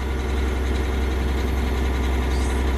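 A John Deere 13.5L diesel engine runs steadily at around 1300 RPM, giving a loud, close, constant low rumble with an even mechanical drone and no talking.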